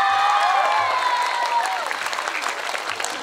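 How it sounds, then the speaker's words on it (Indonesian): Applause from a crowd, steady clapping that fades slightly, with a high tonal sound ringing over the start. "Tepuk tangan untuk santri-santri."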